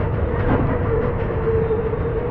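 A train at Bhagavathipuram railway station, bound for Kerala on the Punalur–Tenkasi line, gives a steady low rumble with a faint sustained tone throughout, continuous and fairly close.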